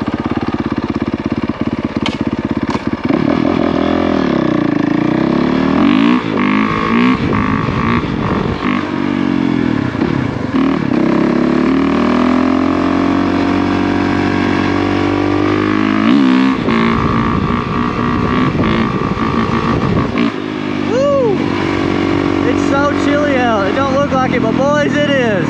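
Dirt bike engine revving on a test ride with wheelies, loud close throttle blips and rising, falling pitch sweeps across the whole stretch, a rider's voice occasionally over it.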